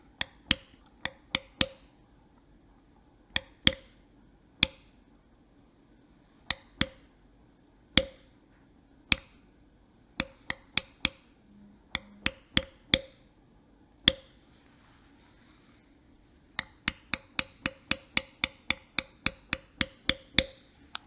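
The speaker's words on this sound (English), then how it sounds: "I just usually will go ahead and bevel these out" A leather beveling tool is struck repeatedly with a mallet while beveling a floral belt carving. The sharp taps come in bursts and steady runs, close and crisp, with no voices.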